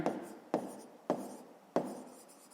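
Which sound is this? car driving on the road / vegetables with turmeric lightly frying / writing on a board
writing on a board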